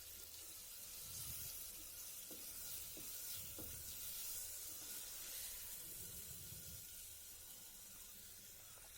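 Garlic, onion and tomato sautéing in a pan for a green gram kadayal, a soft continuous sizzle and hiss with occasional faint stirring scrapes, quiet and steady throughout.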